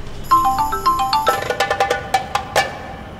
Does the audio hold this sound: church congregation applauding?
no